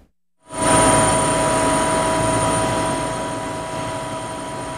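A news helicopter's engine and rotor roar up abruptly and hold a loud, steady drone from inside the cabin, slowly easing slightly over several seconds, with no talk.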